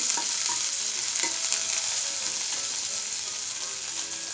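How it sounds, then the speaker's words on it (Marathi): Chopped onion and coriander sautéing in a pan, a steady close sizzle with scattered scraping stirs of a spoon, no voices. "हा थोडंसं परतून घेऊया"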